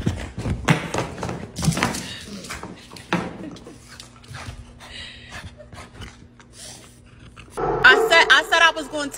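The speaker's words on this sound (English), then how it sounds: "Stop barking at me." Dog barking and snorting in short bursts indoors, mixed with taps and thumps, with people talking throughout.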